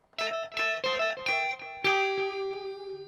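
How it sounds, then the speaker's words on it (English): Bright distorted guitar notes through a Mooer Ocean Machine pedal play a short Super Mario-like chiptune phrase, each note echoed by digital delay repeats, ending on a sustained ringing tone. "you can have your Super Mario sound with some digital delay"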